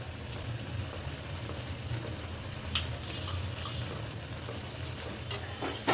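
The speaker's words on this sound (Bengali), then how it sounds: "মাছের তেলটা দিয়ে একবার আমরা ভালো করে নাড়াচাড়া করে নিচ্ছি" A Malabar spinach (puishak) curry is stirred in a pan after oil from fried fish goes in, giving a steady low sizzle and bubbling with a few faint scrapes of the spoon, and nobody speaks.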